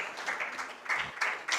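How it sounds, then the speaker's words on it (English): Audience at a literature festival applauding volunteers on stage, with a short burst of scattered clapping that is moderately loud and uneven. "So big round of applause for our volunteers."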